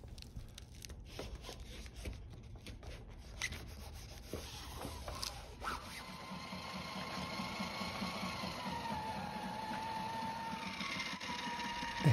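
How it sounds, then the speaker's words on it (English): A sewing machine running a zigzag stitch along a sail hem, first with scattered rustling and handling of sailcloth, then settling into a steady, faint mechanical whir that continues to the end. "hem receives one row of zigzag stitch."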